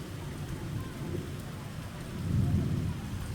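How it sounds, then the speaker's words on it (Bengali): Steady rain pours on a quiet day, a soft continuous hiss with a low rumble swelling midway before easing back. "বৃষ্টি পড়তেছে,"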